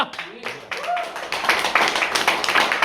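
An audience clapping in a crowded hall, a patchy burst of hand claps and taps building into steadier applause across a few seconds, with someone talking over the start.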